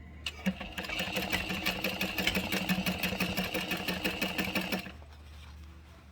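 A sewing machine stitches a bag lining seam at 3/8 inch allowance. A fast, even mechanical chatter runs close and steady for about four and a half seconds, then stops, leaving a quiet hum.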